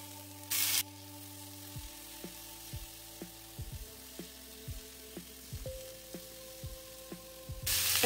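Roughly chopped tomatoes go into a hot pan of roasted peanuts and onion for tomato chutney, a brief loud sizzle followed by a string of faint taps and scrapes of stirring.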